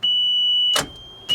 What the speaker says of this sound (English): Sounds like the starter's trying to engage, but it's not turning the engine over.